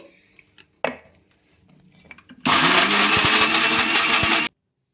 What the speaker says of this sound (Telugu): ఇలా ఈ విధంగా మిక్సీ అయితే పట్టేసుకోవాలి